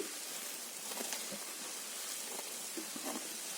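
Homemade neelibringadi herbal hair oil bubbling up as it boils in a pot, a soft continuous frothy crackle and hiss with scattered small pops, close and faint, with no talking.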